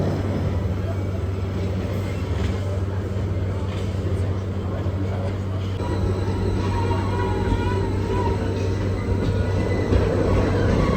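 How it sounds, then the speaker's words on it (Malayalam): Aboard the rack train slowly descending from Christ the Redeemer in Rio, a steady low drone and mechanical hum carry on throughout the carriage, with a soft rattle and some voices over it. "ട്രെയിൻ താഴേക്ക് പതുക്കെ നീങ്ങി തുടങ്ങി."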